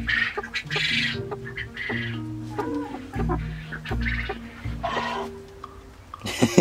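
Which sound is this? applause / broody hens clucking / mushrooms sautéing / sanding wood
broody hens clucking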